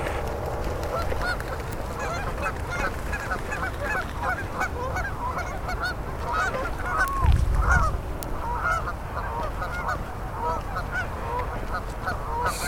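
Ducks on a dam call in a busy chorus of honking quacks, some sounding agitated as if fighting, set against steady outdoor wind noise and a brief rumble near the middle.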